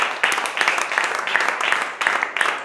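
A church congregation claps in strong, close rhythmic bursts, with hands striking together in repeated waves and brief dips between the surges.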